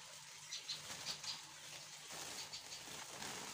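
Soft, muffled wing flapping and fluttering in bursts from about 14 Javan endemic birds, including Javan white-eyes, stirring in a sack, with faint high chirps over steady background noise.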